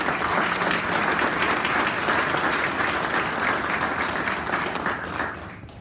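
Audience at an awards ceremony gives a sustained round of applause, dense clapping at an even level for several seconds before starting to thin out near the end.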